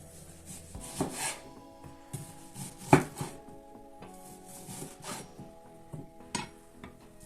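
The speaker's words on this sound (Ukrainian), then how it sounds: "великих цибулин і буду їх нарізати кільцями" A knife slices five large onions into rings for shashlik, with a few sparse, distinct cuts and board knocks spaced over a few seconds, close and fairly quiet, with no talk.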